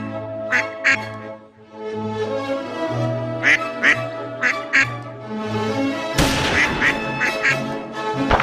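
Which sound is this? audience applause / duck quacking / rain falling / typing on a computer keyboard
duck quacking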